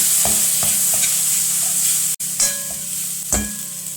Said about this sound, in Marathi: ही जी डाळ आहे भिजवलेली ती घालून घ्यावी. परतून घेऊया.